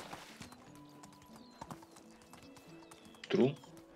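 Donkey hooves clip-clop steadily in the Medieval Dynasty video game, a light rhythmic patter under people talking, ending with a louder animal call.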